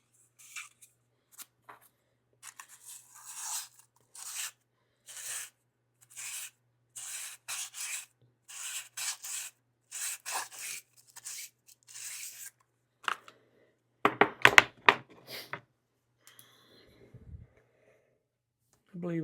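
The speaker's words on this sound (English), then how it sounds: "I'll just take my sandpaper and push it in there and wind it around" Sandpaper wound on a slotted PVC piece sands a tobacco pipe mortise, producing quiet, rhythmic rasping strokes in short bursts, then a louder scraping flurry near the end.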